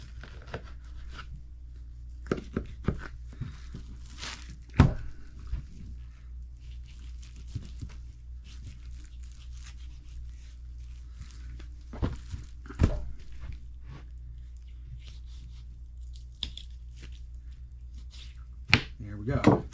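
Knife work on a pig carcass, cutting down to the bone, comes through as scattered soft cuts, thunks and tearing sounds, with a few sharper knocks. The sounds are quiet and close, with speech in places.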